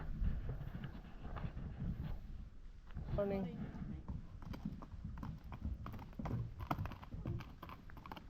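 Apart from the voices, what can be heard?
horse hooves clip-clopping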